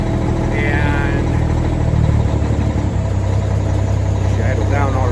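Peterbilt truck engine idling, a steady close low diesel throb and rumble running throughout, while someone talks over it.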